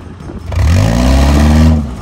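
A performance car's engine revs hard close by, a single loud rising roar that builds, holds for about a second and then drops away, with no talk over it.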